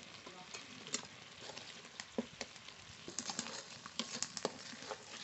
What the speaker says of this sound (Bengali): ভালো করে এবার একসঙ্গে কষিয়ে নেব।